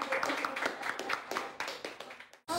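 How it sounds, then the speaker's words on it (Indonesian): A small audience claps for a guest speaker with a sparse, fairly regular patter of hand claps. The clapping tapers off, then stops abruptly at the end. "tepuk tangan dong buat narasumber kita"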